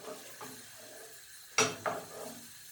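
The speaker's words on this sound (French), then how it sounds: "Donc que ça prenne bien l'huile, ça va saisir dans l'huile." Onions and bell pepper searing in hot oil in a pan, a soft sizzle punctuated by two sharp scraping stirs, close and fairly quiet.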